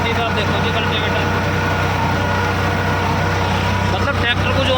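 Eicher 557 tractor engine idling steadily at around 1300 RPM while pulling a cultivator, a continuous loud diesel drone with no gaps, heard close up.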